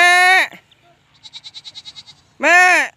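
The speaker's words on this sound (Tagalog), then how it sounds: "Ayun yung mga kambing natin oh." Goats give two loud, wavering bleats close by, one at the start and one at the end. Between them comes a quieter, rapid pulsing sequence, all heard outdoors on a farm where the goats are short of grass to graze.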